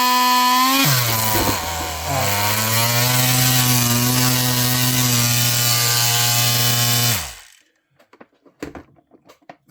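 A handheld rotary power tool of the Dremel type spins up loudly and runs steadily with a high whine, close to the mic, for about seven seconds, then cuts off into a few faint clicks and taps.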